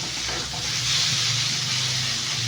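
Chicken shingara filling frying and being stirred in a pan, a steady close sizzle with a low hum running underneath throughout, no voices.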